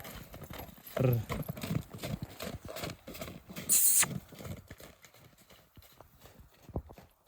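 Working mares' hooves clip-clop in an irregular, moving rhythm with a few sharper knocks, fairly close, along with faint outdoor rustling and no clear speech.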